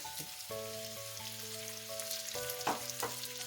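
Bamboo shoots and a medium tomato fry in a pan with a soft, steady sizzle, heard beneath a sustained melodic tone and a few brief clatters.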